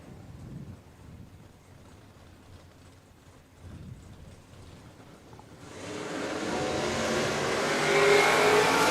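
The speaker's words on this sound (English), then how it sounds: "Bit of wheel spin off the start line there" Holden Commodore drag cars, a VK and a VL, launching off the start line at Willowbank Raceway drag racing, a quiet rumble rising into a loud sustained roar of engines and wheel spin.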